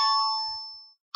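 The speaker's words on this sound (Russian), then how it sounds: "Вот кто-то просто звонит, самый нетерпеливый, я ему позже перезвоню." Incoming-call ringtone on a phone: a bright electronic chime rings out and fades over about a second, then a second ring begins right after a short silence.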